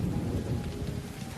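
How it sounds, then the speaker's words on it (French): Heavy rain pours steadily during a thunderstorm, with a low rumble of thunder rolling underneath, loud and continuous for a moment. "Tu entends ce bruit? Oui, c'est la pluie."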